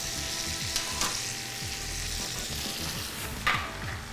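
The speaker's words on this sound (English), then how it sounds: "We're gonna put it back in a pan to finish to cook it at the right temperature." Rested chicken sizzling in a hot pan, a steady crackling fry with a few sharper pops and spatters, close and alone.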